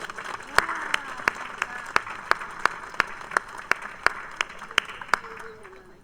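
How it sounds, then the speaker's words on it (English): A ceremony audience gives a round of applause for a Marine Band and POW singers, with steady crowd clapping punctuated by a few sharp nearby claps, and a voice faintly audible beneath. "I'd like to just ask you for a round of applause for our Marine Band and the POW"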